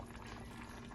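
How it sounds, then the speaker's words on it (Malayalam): Sardines boiling in a pan, a dense, steady bubbling simmer that holds close and fairly loud for the whole second, with no voices over it. "മത്തി ഇങ്ങനെ തിളച്ചുകൊണ്ടിരിക്കുന്നുണ്ട്"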